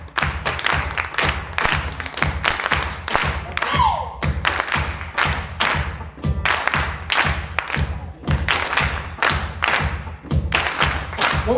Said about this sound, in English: clap with us, come on. There's a clap pattern here.